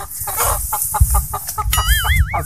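Rooster clucking in a quick series of short, close calls, followed by a brief rising warble, with other farmyard birds faintly in the background.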